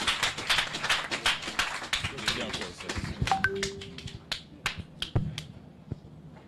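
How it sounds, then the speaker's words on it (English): Audience applause at a statistics office announcement of 2021 mid-term census results, scattered and uneven clapping from a modest crowd, loud at first and thinning to a few sharp claps, with brief voices mixed in. "A round of applause"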